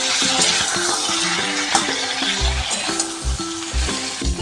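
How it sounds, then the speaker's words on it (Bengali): Ridge gourd and potatoes frying in oil in a pan, a loud continuous sizzle with intermittent low thuds and scraping as the pieces are stirred, no voices. "এবার ঝিঙে আলুটা কিছুক্ষণ আমি ভেজে নেব"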